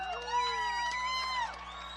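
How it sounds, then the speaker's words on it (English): A crowd cheers and whoops for the winner of a girls' 11-16 motocross moto at Loretta Lynn's, voices overlapping in a steady, moderately loud roar for about two seconds. "Let's cheer for her. Let's hear it."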